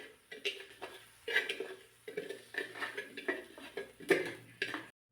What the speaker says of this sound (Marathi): मी असा छोटासा एक गडू घेतलेला आहे तांब्या टाईप आणि त्याने हे बारीक करते